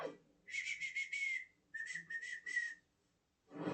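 Someone whistles a short tune, two bursts of quick trilling, warbling notes separated by a brief gap, close and clear, with no talking.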